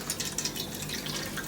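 Activated yeast mixture, foamy with a funny smell, poured into a container while making homemade pizza dough, giving a continuous close liquid trickle with small splashy bursts.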